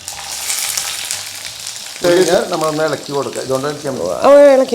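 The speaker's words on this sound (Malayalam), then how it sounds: "ഇനി നമ്മൾ ഉള്ളി കേട്ടോ ഉള്ളി ഇട്ട് കൊടുക്കാം" Onions sizzle and fry in a hot pan with curry leaves for Kerala-style ulli theeyal. A steady frying hiss is heard alone at first, then continues under a person talking.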